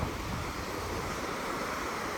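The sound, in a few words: sea waves on Baga beach, Goa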